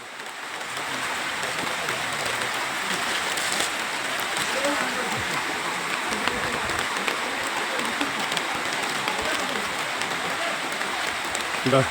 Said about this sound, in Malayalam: ഈ കൃഷി കൂടി പോണ വെള്ളമാണ് എന്റെ കൃഷിയാണ് വെള്ളത്തിൽ മുങ്ങി കിടക്കുന്നത്